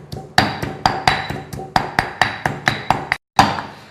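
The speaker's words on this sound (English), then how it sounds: "Okay, so now we're going to pound our paste." Salt and coriander roots pounded into a coarse curry paste with a pestle in a mortar, about a dozen sharp, evenly spaced thuds close up, with one brief pause near the end.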